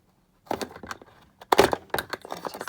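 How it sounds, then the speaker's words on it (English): Several crisp snipping and crunching sounds close up, in two short bursts, like scissors cutting through stiff material. "I wonder if I can just take this bit down slightly more with my scissors."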